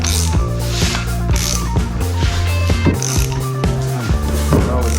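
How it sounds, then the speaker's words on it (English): Ratchet of a bearing puller working on a VW T4 Syncro propshaft, loud close clicks repeating in an uneven rhythm with creaking metal between strokes, no talk. "I lock the bearing here and then take this puller and I use some nut here as a collar."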